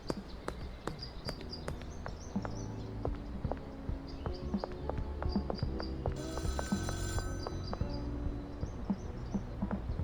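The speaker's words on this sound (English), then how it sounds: "I hear a payphone." A payphone in a video game rings with repeated electronic trilling bursts over a busy, layered game soundscape at moderate distance.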